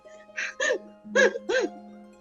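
A voice imitates hiccups: four short, sharp hiccup sounds in two pairs, close and clear, with a faint steady hum underneath.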